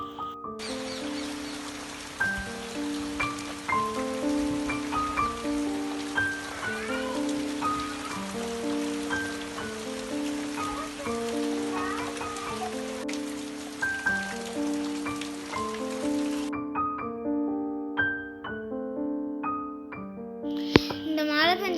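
Steady rain on a rainy day at home keeps up a broad hiss for about sixteen seconds beneath soft, continuous melodic music, then stops, leaving the music alone.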